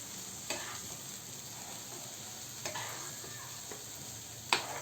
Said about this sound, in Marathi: मीठ घातल्यानंतर आता आपण हलवून